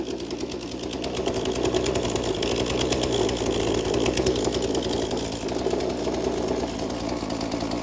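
A Husqvarna 236 chainsaw runs after a carburetor fix, its close, rapid buzzing engine held at a steady speed with a slight rise in the middle and no talking.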